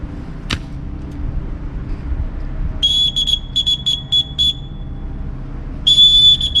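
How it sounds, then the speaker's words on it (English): A person whistles to warn off a bear on a hiking trail in the Great Smoky Mountains, sounding a series of short, shrill, fairly loud bursts and then a sustained blast over quiet outdoor background. "need to whistle."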